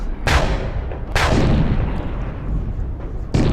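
Warship cannons fire in a naval battle in the Napoleon Total War video game, loud booming shots about a second apart, each trailing off into a rumbling roar.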